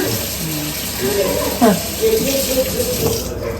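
Hot water runs steadily from a kitchen tap as something is washed underneath it, a close continuous splashing stream while a person speaks over it.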